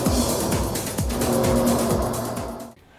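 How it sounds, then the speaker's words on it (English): An anti-gravity racing craft engine in the Wipeout video game gives a loud, layered roar that blends a low rumble with a high whine, pulsing steadily for several seconds before cutting off abruptly. "Here the engine sound is more subdued, but it's a blend of high and low frequencies"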